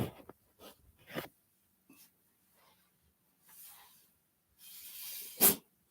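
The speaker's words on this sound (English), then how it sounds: "God bless you. Doggy sneeze." A dog sneezes with a sharp, short burst near the end, preceded by a few softer snorts and sniffs, set against a mostly quiet room.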